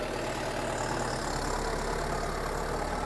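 A Guard World 754 75 HP tractor hitched to a 13-tine cultivator sits idling, a steady low, even engine drone with a faint rhythmic knock, heard close and alone for a few seconds.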